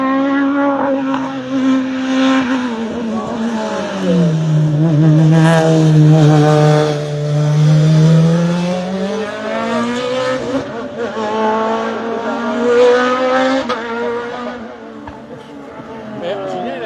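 A hill climb race car powered by a Suzuki motorcycle engine screams past at a seaside course hill climb event, loud and close, its high-revving note dropping as it shifts down, then climbing again before fading slightly.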